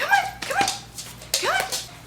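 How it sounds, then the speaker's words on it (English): A large miniature schnauzer whimpering and yipping in close, high-pitched bursts: two quick whines, a pause, then two more rising whimpers, with no talking. "He's like a very large mini schnauzer."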